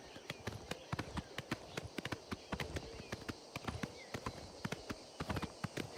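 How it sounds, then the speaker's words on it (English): Horse galloping at full speed in a video game, rapid steady clip-clop hoofbeats in a continuous driving rhythm, fairly close and clear. "This horse is going as fast as he can go."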